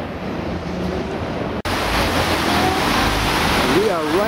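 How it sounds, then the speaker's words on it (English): The waterfall at the Mirage on the Las Vegas Strip roars as a broad, steady wash of falling water, heard outdoors with street ambience, wind buffeting and a brief dropout partway through. "Let's see how good this comes out in HD video, this waterfall."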